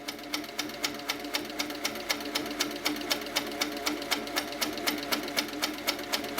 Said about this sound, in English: So I'm just going to stitch around this ruler until I get to the other end.